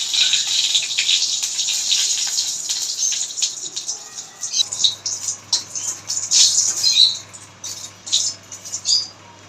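Dried chili broken into a little hot mustard oil in a kadai, giving a steady bright sizzle with scattered crackles and pops that grow more spitting toward the end, over a faint low hum.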